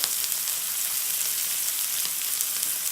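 Butter sizzles steadily in a hot pan used for searing steak, a continuous bright crackling hiss that stays loud and close throughout with no talking.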